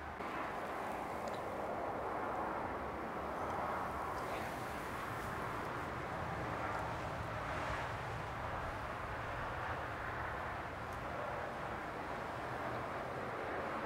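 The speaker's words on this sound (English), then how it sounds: "Traffic is numbing, like the sound is steady." Road traffic near Sunnyside, Newfoundland drones steadily from a distance, forming a constant low rumble and wash without distinct passing vehicles.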